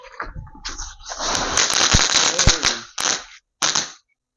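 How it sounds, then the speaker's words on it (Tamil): A KitKat firecracker from Sivakasi goes off at night as a dense, continuous burst of rapid pops and crackles lasting several seconds. A couple of louder cracks stand out, a brief gap follows, then a final short burst, and nobody speaks. "ஸோ அடுத்து இந்த கிட்கேட் வச்சு பார்க்கலாம் எப்படி இருக்குன்னு சொல்லிட்டு"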